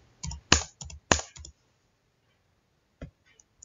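A few crisp keyboard clicks from typing an IP address into a computer's network settings, in two short bursts with a pause and then single taps, close and fairly quiet with no talk.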